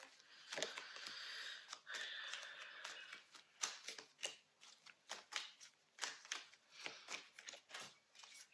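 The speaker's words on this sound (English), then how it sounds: "So let me see, I'm gonna pull 3 final cards here." Tarot cards are shuffled and pulled from the deck, giving a run of quick, soft riffling flicks and slaps in an irregular rhythm, close and fairly quiet.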